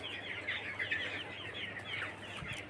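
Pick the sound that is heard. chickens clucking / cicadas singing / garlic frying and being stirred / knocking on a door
chickens clucking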